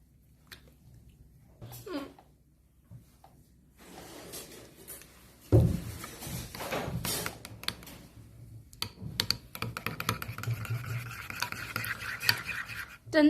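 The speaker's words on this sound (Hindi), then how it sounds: "अब इसके अंदर पूरा हम कंडेंस्ड मिल्क डालने के बाद इसको अच्छी तरह से मिक्स करेंगे" Condensed milk being stirred into a coffee cake mixture in a bowl: a run of close, irregular scraping and clicking strokes grows busier and denser over time, with no talking.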